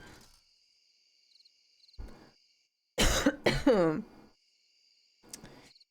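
A person coughs hard a few times in a close, loud burst, with a high steady insect-like chirp from the video game Stardew Valley running in the background.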